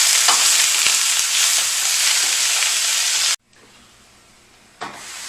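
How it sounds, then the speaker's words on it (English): Cabbage wilting in a hot pan gives a loud, steady close sizzle under stirring. The frying suddenly drops away to near silence, then a fainter hiss returns at the end. "I'm going to wilt this cabbage, try to keep it in the pan. There we go. I'm going to stir it around."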